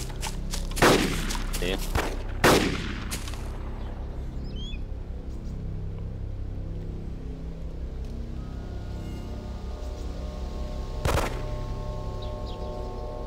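Gunfire in the game DayZ: a few sharp, loud shots ring out early, followed by a later single crack over a steady background rumble, with players talking briefly in between.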